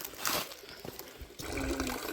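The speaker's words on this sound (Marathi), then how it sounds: "समोर त्या झऱ्यातनं पाणी येते हा स्नान कुंड आहे" Spring water runs and splashes steadily into a stone bathing tank at Ajobagad fort, a continuous rushing flow that grows slightly fuller partway through, with no voices.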